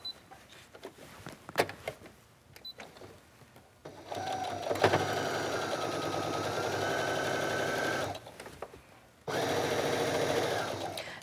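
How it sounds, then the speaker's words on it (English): A sewing machine top-stitches a sleeve cuff, running in a steady motorized whir for several seconds, pausing, then starting again at close range; quieter fabric handling comes before the stitching. "So let's go top stitch."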